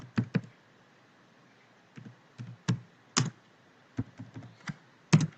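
Keystrokes on a computer keyboard come in short irregular clusters of crisp clicks, close up, separated by quiet pauses, with no talking.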